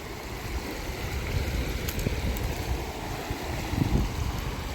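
Rushing river water in rural Madhya Pradesh along the route from Omkareshwar to Mortakka, a steady broadband wash of flowing current close by, continuous and unbroken with no voices.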